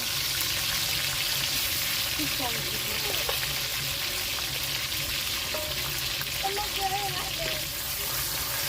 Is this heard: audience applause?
no